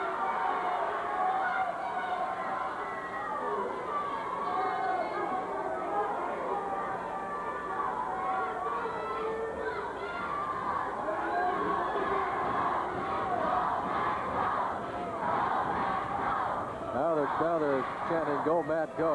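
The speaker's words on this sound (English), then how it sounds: "They're clapping, they're stomping, they're cheering, all for Matt Bourne." Wrestling arena crowd at a Portland match clapping, stomping and cheering in a steady, dense roar that fills the whole stretch, with shouts rising near the end.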